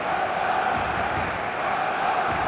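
Steady roar of a stadium crowd in the eFootball video game, a dense continuous wash of many voices at moderate level, with no distinct chants or peaks.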